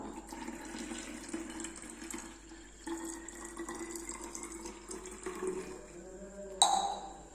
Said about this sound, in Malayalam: നമുക്കിനി ഇത് ബോട്ടിലേക്കൊന്ന് ഒഴിച്ചു കൊടുക്കാം